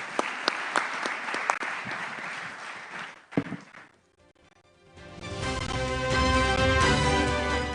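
A summit audience applauds panelists with dense, steady clapping that stops abruptly after about three seconds; a couple of clap bursts follow, then a pause, and then music swells in.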